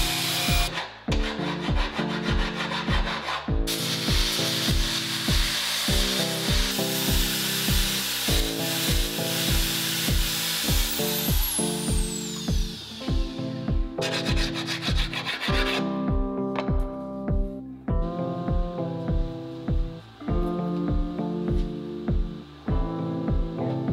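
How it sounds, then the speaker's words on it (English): Grinding tools work a rough MIG weld bead into a radius on the rust-repaired body of a 1986 Porsche Carrera, producing loud, sustained abrasive rasping in repeated rhythmic strokes with brief pauses, close up and with no talk. "the MIG welding bead with all its warts and bulges had to be turned into a proper radius, and that meant that my full arsenal of grinding tools was deployed"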